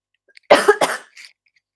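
A person getting over a nasty cold gives a short, close cough of two quick bursts, followed by a fainter third, in an otherwise quiet room.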